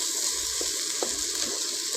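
Rice stirred through onions in a pan: a steady sizzle with soft scraping strokes of the spoon, close and continuous.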